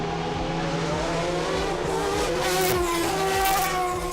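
An Arrows A21 Formula One car from 2000 screaming toward 18,000 RPM at a motorsport festival demonstration on a shortened F1 track, a loud, close, high-pitched engine wail climbing and shifting through gears without pause.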